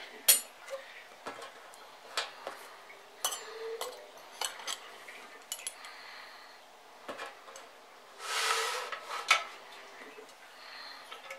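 Metal silverware (knife, fork and spoon) clinks and taps while a deadfall trap trigger is set, with scattered sharp ticks, a brief scraping rustle near the end, and quiet handling noise between.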